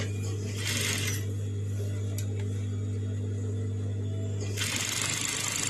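A sewing machine stitches a hem on a skirt in two brief, close runs of rapid clatter over a steady low hum.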